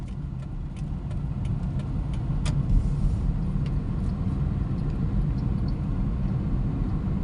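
A 7-year-old Perodua Axia E hatchback drives along with a steady mid-pitched engine hum and road rumble filling the cabin, continuous and close, with a few faint ticks over the drone and no talk.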